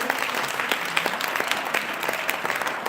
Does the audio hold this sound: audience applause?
yes